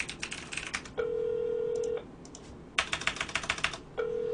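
A telephone being dialed to place a call: a rapid series of keypad clicks alternating with two long steady dial tones, close and clear, with no talk.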